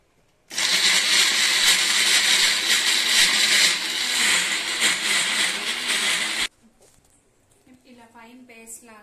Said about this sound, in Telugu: ఇప్పుడు కొంచెం వాటర్ వేసుకొని స్మూత్ గా పేస్ట్ చేసుకోండి